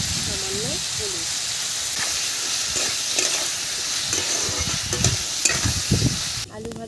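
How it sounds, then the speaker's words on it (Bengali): Potatoes seasoned with salt and a little turmeric sizzle steadily in a pan while a spatula stirs and scrapes in repeated strokes, with someone speaking briefly over the cooking. "আলু ভাজা বসিয়ে দিয়েছি"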